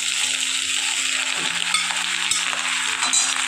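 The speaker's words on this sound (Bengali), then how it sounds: "আর এবার আমি শিমটার মধ্যে দিয়ে দিচ্ছি, আলুর মধ্যে শিমটা দিয়ে দিচ্ছি।" New potatoes sizzle steadily in a pan as flat beans are tipped in, a continuous close frying hiss with a few soft stirring knocks and faint clinks throughout.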